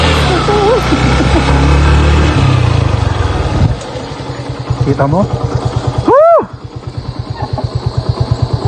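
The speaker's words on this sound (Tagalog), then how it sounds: "parang humahampas siya na lumalagit galing sa makina" A loud engine idles with a steady rhythmic knocking pulse, while a person talks over it during the first few seconds.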